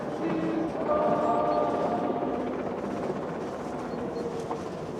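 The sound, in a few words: Swiss mountain train running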